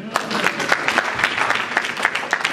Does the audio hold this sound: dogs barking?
no